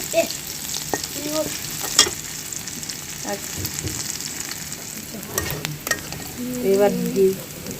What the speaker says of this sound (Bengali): এই যে একটু পেঁয়াজ আর মরিচ ভাজা হইতেছে